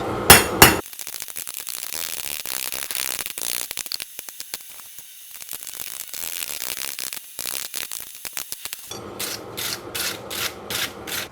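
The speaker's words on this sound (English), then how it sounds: "I'm just laying in some texture just so it looks forged." A hammer strikes metal to lay in a forged texture on a swage block stand, a few sharp ringing blows, then a quick run of evenly spaced taps near the end, close and clear.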